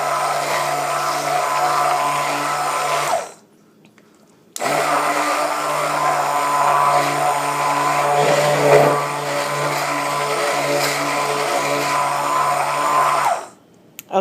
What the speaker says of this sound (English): Stick blender, and as you can see, it's already pretty thick.